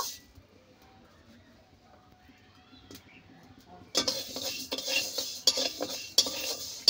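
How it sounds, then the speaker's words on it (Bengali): Mung dal dry-roasting in a wok over a stove: quiet at first, then a metal spatula starts scraping and clattering against the pan, a close, busy rhythm of stirring with faint sizzle. "এখন যে মুগের ডাল নিয়েছি, ডালটা বেশ ভালো করে একটু ভেজে নেব।"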